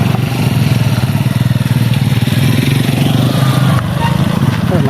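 A motorcycle engine labors uphill on a mountain temple footpath route, a loud, steady, throbbing drone close to the mic throughout, with wind rush over it.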